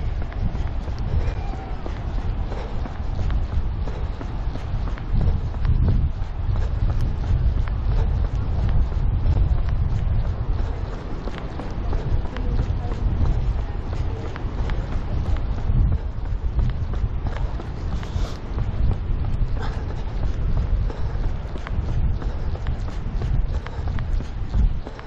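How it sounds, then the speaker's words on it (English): Strong wind blows into a GoPro while running a coastal trail, a loud, unbroken low rumble and buffeting that lasts throughout, close to the microphone, with steady footfalls faintly mixed in. "Wind in my face all the way"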